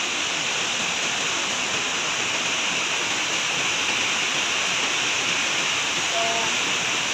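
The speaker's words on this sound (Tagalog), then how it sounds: "Napakalakas ng bagsak ng tubig." Hinguiwin Falls in Padre Burgos, Quezon, pours heavily with a loud, constant roaring rush of falling water, steady and unbroken throughout, close by.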